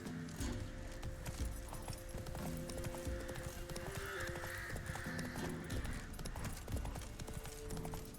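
Roach the horse galloping in The Witcher 3 game, a steady run of hoof clip-clops under continuous music and ambient game sound, with a brief whinny, loud and close.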